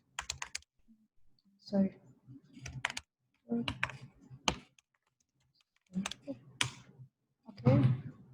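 Bursts of clicky typing on a computer keyboard during a web development workshop, short flurries of keystrokes alternating with a person speaking quietly nearby.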